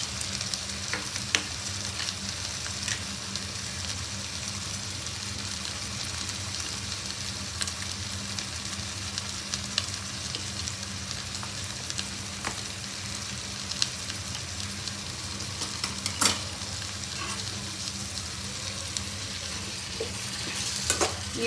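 Turmeric, salt and chilli powder being stirred into a sizzling pan for a chicken semiya dum biryani, with a steady crackling fry and scraping stir strokes going on throughout, moderately loud with no talk.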